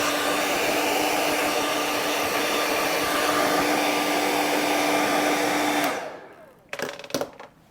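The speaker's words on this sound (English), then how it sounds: "get this hair dryer and blast this thing" A loud, steady hair dryer blows at full power onto an iPhone 15 Pro for several seconds, then cuts off, leaving a few clicks and handling noises.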